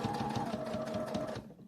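A sewing machine runs a back-and-forth stitch on a work jacket, a steady close mechanical whir of rapid needle strokes that cuts off at the end.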